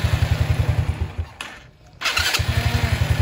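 A Rusi Wavestyle motorcycle with a slipping Bendix starter drive is started. Close, rhythmic engine pulses are followed by a brief dip and a whir, then the steady pulsing resumes.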